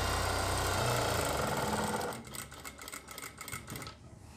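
A sewing machine stitches an apron pocket, a loud steady mechanical whir for about two seconds that then drops to softer, uneven clicking and handling noise.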